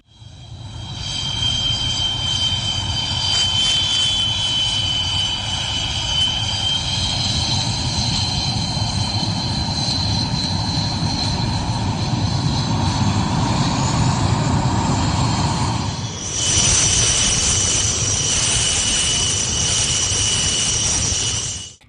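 Jet aircraft roar steadily overhead during a farewell flypast of MiG-21 and Jaguar fighter jets alongside the Suryakiran aerobatic team, a loud continuous engine rumble with a fresh surge of sound late in the pass, no talking.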